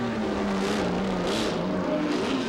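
Race car engine at the 1987 IMSA Grand Prix of Palm Beach, running in the Camel Lights class with a reported misfire, gives a loud continuous high-revving drone that shifts slightly in pitch and swells near the middle.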